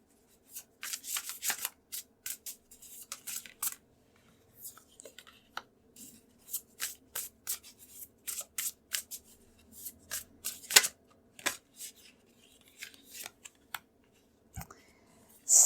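Tarot cards are shuffled and handled at close range, with many quick soft riffles, flicks and taps in irregular bursts over a long stretch. The sound is fairly quiet, with faint background hum and no talk.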